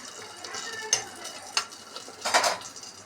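Raisins roasting in a pan for sakkarai bath give a faint sizzle under a few scraping stirs and light clinks of a spoon against the metal.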